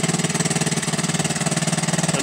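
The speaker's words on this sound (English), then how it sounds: "press the red button in to stop the engine" A small Honda outboard motor on a dinghy runs steadily up close, a rapid even chugging pulse with a droning hum and no voices.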